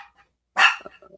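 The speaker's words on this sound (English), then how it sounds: "That's my dog, y'all." Single sharp dog bark nearby, loud and brief, followed by a few soft whimpering yips in an otherwise quiet room.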